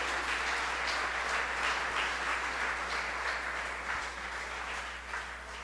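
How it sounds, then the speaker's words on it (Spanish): Steady applause from a church congregation fills the space, a dense wash of many hands clapping at an even level, fading slightly toward the end. "Dale un aplauso fuerte"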